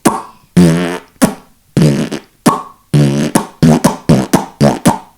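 Repeated didgeridoo bursts played with the kiss technique and an open mouth, with buzzing, lip-smacking attacks, a few longer drones followed by a quick run of short pulses, close and fairly loud.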